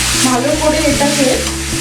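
Chicken with ginger-garlic paste sizzles loudly in a pan while a utensil stirs and scrapes through it in a continuous, close-up clatter.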